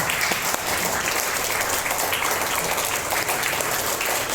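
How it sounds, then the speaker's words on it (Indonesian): A standing audience gives sustained, dense applause at a business seminar, loud and steady throughout with no talk rising above it. "Aplaus sambil berdiri"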